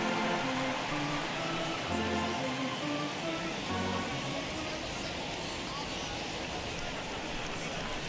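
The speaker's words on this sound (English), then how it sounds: "This has got to be the hardest rain we've seen all afternoon." Heavy rain pours steadily over a baseball stadium crowd in the MLB The Show 21 video game, a Cardinals–Reds matchup, a dense continuous hiss beneath low tonal game music and broadcast commentary.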